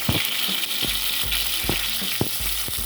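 Mustard seeds and curry leaves sizzle in hot oil in a home kitchen, giving a steady close hiss with scattered sharp pops and crackles.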